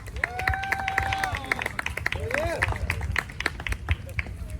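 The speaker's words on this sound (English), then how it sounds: "Give him a round of applause." A crowd at a Long Beach Liberation March rally applauds and cheers, with scattered claps and shouts heard from close range while voices call out over the noise.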